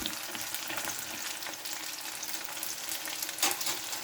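Ingredients frying in a pan over a medium flame, a continuous crackling sizzle with occasional stirring clatter, close up and alone.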